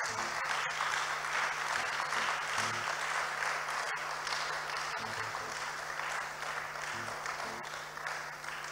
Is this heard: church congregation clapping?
yes